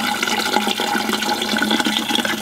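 A clogged RV toilet flushes and refills, a loud continuous rush and gurgle of water running steadily close by with no voices.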